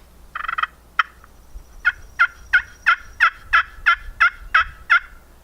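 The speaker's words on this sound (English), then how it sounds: "move the call to the center of the slate, and it's going to give you a different tone" A slate turkey call worked with the peg at the center of the slate gives a hen tone: a short scratchy stroke, then a run of about ten evenly spaced clear yelps, close and loud.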